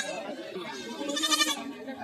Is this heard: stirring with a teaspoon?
no